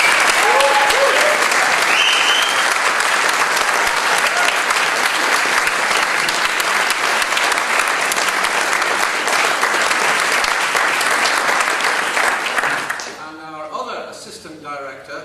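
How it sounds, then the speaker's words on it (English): Sustained, loud applause from a large audience at a saxophone congress general assembly, honouring Michael Brogan, thick steady clapping for about thirteen seconds before tapering off into scattered claps. "Would you please give a huge round of applause for Mr."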